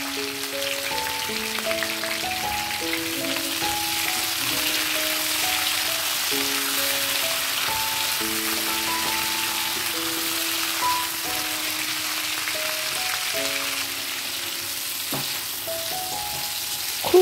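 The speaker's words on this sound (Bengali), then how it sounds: "পটলগুলোকে ভাজছি" Cut pointed gourd pieces fry in oil with turmeric and salt, giving a constant, close, rain-like sizzle that holds steady for the whole stretch under soft background music, with no voices.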